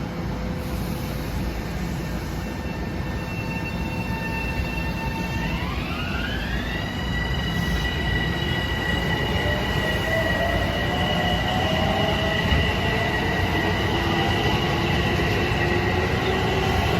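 A Long Island Rail Road M7 electric train pulls away at Westbury station, its motor whine climbing in stepped, echoing tones over a steady, loud rolling rumble, with no voices.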